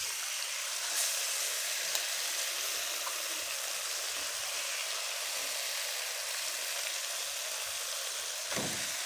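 Mashed chana dal fries in ghee with a steady, even sizzle that holds at a constant level throughout, with a faint stir or scrape near the end.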